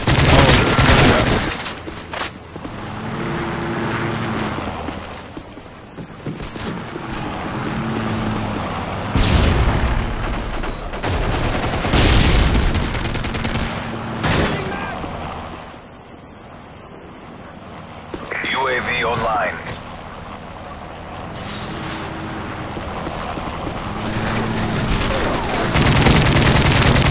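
AK-47 fire in the Modern Warfare 3 video game comes in repeated bursts and booming shots, loud and dense, with a player talking over parts of the action.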